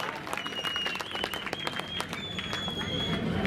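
A crowd at a political rally in Aurangabad bursts into steady, dense applause, with sharp whistles cutting through the clapping throughout.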